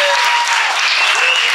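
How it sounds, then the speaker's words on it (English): Audience applause at a comedy show, a loud, steady wash of clapping filling the room as a comedian is welcomed to the stage, with a bit of cheering mixed in. "Give him a big round of applause."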